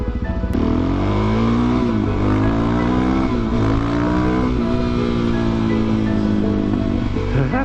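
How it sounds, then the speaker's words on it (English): A motorcycle goes by on the road, its engine loud and constant, with pitch shifts as it passes, heard against the steady drone of another running engine and wind. "Hey, a biker."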